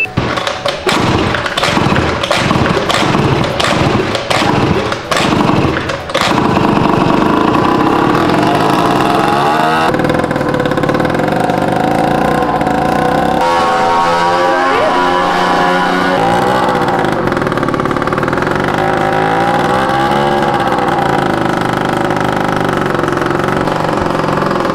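A freshly repaired scooter engine thumps through several cranking attempts, then catches and runs steadily, revving up and down loudly up close for the rest of the stretch.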